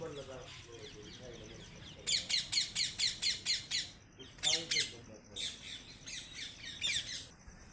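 A parrot squawks near the Pancheshwar Mahadev temple: a rapid run of loud, harsh, close calls, then a short pair and another burst of squawks after a brief pause, following a quieter opening.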